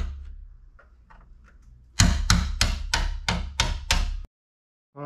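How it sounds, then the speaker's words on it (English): Several sharp metallic taps of a hammer on a screwdriver ring out in quick succession at close range, about eight strikes, knocking out a door hinge pin, following quieter faint knocks, then a pause and another tap. "knock out your hinge bolt or hinge pin. Just a hammer and a screwdriver"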